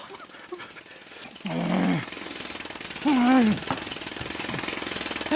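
Loud repetitive hammering and drilling of building work in a staged comedy, a steady mechanical rattle running throughout with heavier bursts, while people talk over it.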